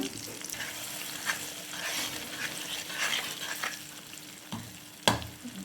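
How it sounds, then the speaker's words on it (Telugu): Gongura leaves are stirred into a sizzling tempering of oil, dried red chillies and curry leaves for gongura pachadi. A steady, close crackling sizzle runs throughout with scraping stirs and a sharp clack near the end. "ఈ తాలింపులోకి బాగా కలిపేసుకుందాం"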